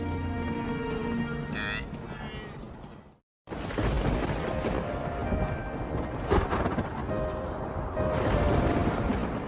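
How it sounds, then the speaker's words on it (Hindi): Heavy thunderstorm with rain in the wet season on the wildebeest migration plains, rolling thunder rumbling over a steady roar of rainfall, loud and close, with a brief silent gap early on. "बारिश के मौसम में गरज भरे तूफान लगभग रोज ही आते रहते हैं"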